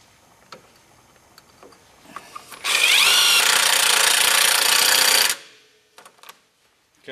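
A power drill drives a self-tapping screw in one loud, steady whirring burst lasting a few seconds, with quiet handling clicks before and after.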